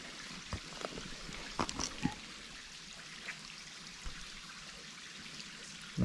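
Water trickles away down a drop of about 25 feet at a campsite in high summer, a steady faint wash of noise heard from a distance, with a few soft splashes and drips.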